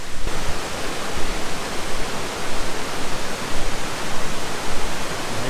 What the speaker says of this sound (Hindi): सामने आने वाला है एक शानदार, लाजवाब, 1 नंबर का वाटरफॉल